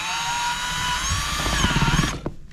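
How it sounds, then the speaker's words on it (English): A power drill whines steadily at high speed while drilling out a part to make room for a wire, then strains with lower rattling and stops abruptly near the end, close and loud. "I think we got to drill this part out."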